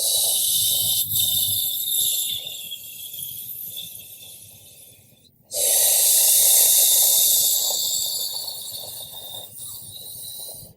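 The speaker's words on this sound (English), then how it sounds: "let's take a long deep breath in through the mouth as if you are taking a straw in" Two long, close breaths taken through the mouth during a guided breathwork session, each a broad airy hiss. The first fades slowly, and after a short pause the second starts strongly and tapers off. Soft music plays underneath, with no speech.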